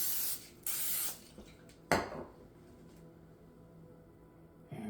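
Cooking spray spritzed onto a hot waffle maker while making pumpkin waffles, two quick close hissing bursts followed by a sharp click and quiet kitchen background.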